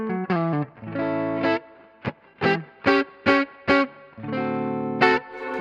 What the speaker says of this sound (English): it's going to be full distortion or the overdrive sound